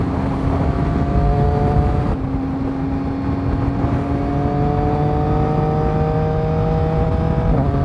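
A Yamaha MT09 motorcycle accelerates along a road, its engine tone climbing steadily through one gear, dropping at a shift, then rising again, loud and close with constant wind and road roar.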